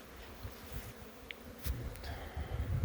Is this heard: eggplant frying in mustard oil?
no